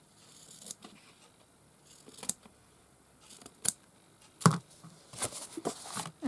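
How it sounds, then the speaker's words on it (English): Scissors snip through a screen-printed journal cover in a handful of sharp, close cuts spaced irregularly over quiet background, with small handling rustles between them. "Let's just trim that little bit there."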